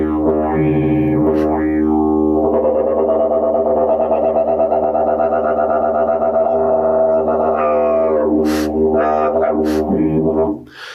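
A humble wind instrument imitating a kookaburra's laughing call, loud and close with a sustained buzzy drone, bursts of warbling rises and falls at the start and end, played alone.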